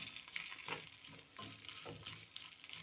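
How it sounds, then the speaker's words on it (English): Ghee pongal ingredients, including cashew nuts, being stirred and mixed together in a pan, giving soft scraping strokes over a faint steady sizzle, close and quiet, with no one talking. "so I'm going to mix all these things together."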